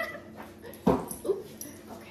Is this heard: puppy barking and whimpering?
yes